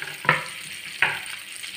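Ginger, garlic and onion fry in a pan for paneer butter masala, a soft continuous sizzle broken by two sharp stirring scrapes close by, with no voices.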